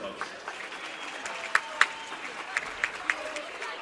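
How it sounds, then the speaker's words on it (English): Spectators at a county all-star volleyball event applaud the crew, scattered claps rising into a light, moderately distant round of applause under faint crowd murmur. "let's give a round of applause for that crew, folks"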